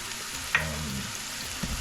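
Onions sautéing in a pan for Aruban and Curaçaoan keshi yena: a steady, close sizzle with a brief stirring clatter near the start and another near the end.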